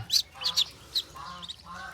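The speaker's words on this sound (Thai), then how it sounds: "เป็ดบาร์บารี่น้อยครับ" Small Muscovy ducklings peep in quick high-pitched chirps, several close together, with a few softer calls trailing after.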